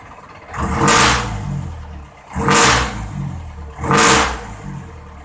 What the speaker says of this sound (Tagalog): hindi po nakakasakit ng tenga po yung muffler natin, parang aeroplano yung dating